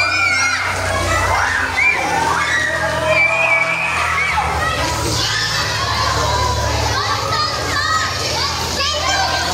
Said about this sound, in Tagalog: Tuwang-tuwa sila sa baha.